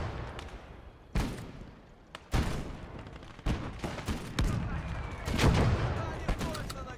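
Anti-tank rifle fire in the WWII game Gates of Hell: several sharp, heavy gunshots at irregular intervals, some close and loud, over a rumbling battlefield background with other distant fire.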